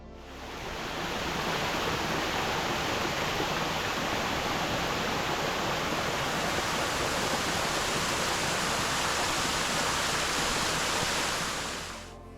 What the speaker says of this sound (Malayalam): കാടിനുള്ളിൽ ഒളിച്ചിരിക്കുന്ന ചൂരത്തള വെള്ളച്ചാട്ടം